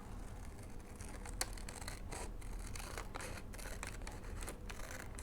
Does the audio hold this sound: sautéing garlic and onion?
no